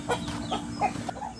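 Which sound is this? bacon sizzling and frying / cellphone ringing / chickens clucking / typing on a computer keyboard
chickens clucking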